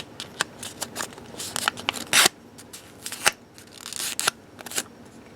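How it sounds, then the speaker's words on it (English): A post-it note square of paper being folded in half lengthwise, close and quiet, with a series of soft crinkles, rustles and sharp creasing snaps scattered across the clip, with no talking. "you're going to fold your post-it note or your square sheet of paper in half lengthwise like this"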